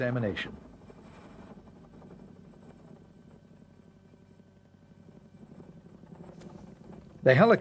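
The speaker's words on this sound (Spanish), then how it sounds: "Estos helicópteros están diseñados para levantar tanques de batalla del siglo XX." A low, continuous drone of a heavy-lift helicopter hums in the background, fairly faint, with brief bursts of a voice at the start and end.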